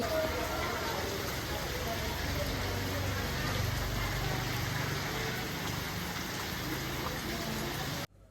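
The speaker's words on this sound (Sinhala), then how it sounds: "මටත් වහිනවා දැන් හවස්සනේ." Steady evening rain gives an even, continuous hiss at moderate distance with no breaks, stopping abruptly right at the end.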